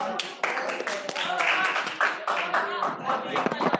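A classroom of students claps briefly in scattered, uneven bursts at close range, while voices talk over the clapping.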